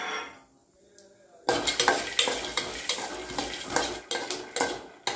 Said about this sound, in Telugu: ఇందులోనే పల్లీలు వేసుకొని వేగేంత వరకు కలుపుకోవాలి.